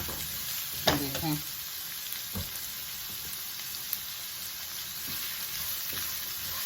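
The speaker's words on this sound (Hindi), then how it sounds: "तो ये देखें 2 मिनट मैंने इसको स्टर फ्राई कर लिया है।" Beef chow mein stir-fried in a pan, a steady close sizzle with a couple of brief scraping stirs near the start, no talking.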